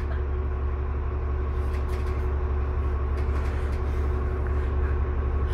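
A 2005 New Flyer D40LF city bus driving along, with a steady, loud engine and road drone throughout and no talking.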